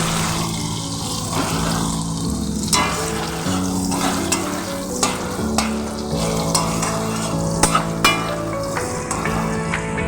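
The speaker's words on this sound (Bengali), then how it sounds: "পেঁয়াজগুলোকে একটু ভেজে নেব লাল লাল করে" Chopped onions fry in oil with black cumin seeds, a steady loud sizzle with spatula stirring and scrapes against the pan running throughout.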